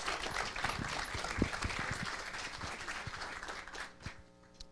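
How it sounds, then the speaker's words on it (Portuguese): Soft applause rises from the audience at a university communication event opening in Brazil, a steady patter of claps at moderate distance that thins out toward the end. "Uma salva de palmas para Roberto Di Benedetto."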